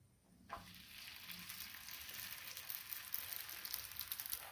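A parotta is laid on a hot, oiled stone griddle and breaks into a steady, bright sizzle after a brief quiet moment, with a crackling fry that holds continuously close by with no talking.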